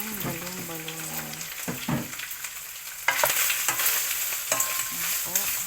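Chicken gizzards fry in hot oil in a pan, sizzling steadily with occasional small pops while a utensil scrapes and stirs, and someone talks over the cooking.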